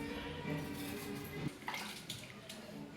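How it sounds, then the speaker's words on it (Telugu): Cut potato strips are washed in water, with soft sloshing and splashing close by, fairly quiet and brief. "బాగా కడుక్కుందాం ఫ్రెండ్స్."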